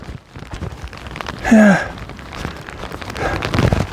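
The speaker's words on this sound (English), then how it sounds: "Rain could have been heavier." Rain falling during a long solo countryside hike, a soft, steady patter with a brief louder burst midway, while a person says a single word.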